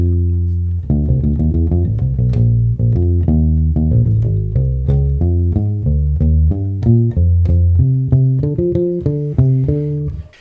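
A bass guitar plays a bass line, a busy, bouncing run of plucked notes that relies heavily on open strings, loud and alone throughout.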